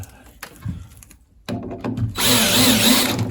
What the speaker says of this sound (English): I might actually just sand that off then